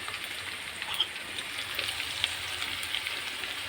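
Liver sautéing in a pan gives off a steady, soft sizzle and crackle, with a few brief pops rising above it, at moderate distance.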